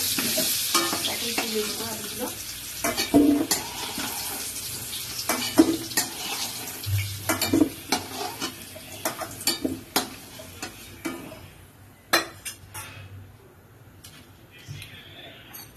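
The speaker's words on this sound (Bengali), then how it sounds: "মাছগুলো লাল লাল করে ভাজা হয়ে গেছে" Fish frying in a pan for a home-style chicken curry, a steady sizzle broken by stirring clatter and scrapes, with someone briefly speaking over it.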